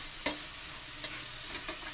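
Bitter gourd frying in tamarind juice in a pan, a soft continuous sizzle broken by several sharp stirring scrapes at irregular intervals.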